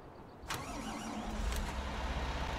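A Fendt tractor engine cranks and fires in Farming Simulator 19, a sharp start followed by a steady low idle rumble that settles and continues close by.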